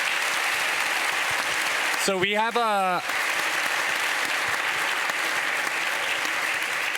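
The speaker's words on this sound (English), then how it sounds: "Let's give these guys a round of applause." Steady applause fills the room from a conference audience at the Plan ₿ Forum in Lugano, continuous throughout, with someone briefly speaking over it near the middle.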